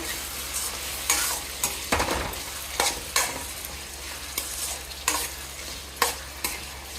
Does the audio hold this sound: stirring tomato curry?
yes